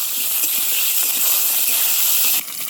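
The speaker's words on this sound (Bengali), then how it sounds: "সজনেটাকে একটু ভালো করে ভাজবো।" Drumsticks (sajna) frying in oil in a pan, a loud, steady, close hiss of sizzling that runs unbroken and eases slightly at the end.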